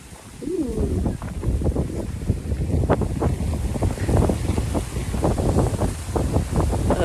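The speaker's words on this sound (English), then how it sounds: "It's like the wind has got a little tunnel to go through, and the sounds of the leaves." Gusty wind blows through a tree tunnel in Centennial Park, a steady rushing with crackling leaf rustle and buffeting against the microphone, fairly close and continuous, with a voice briefly at the start.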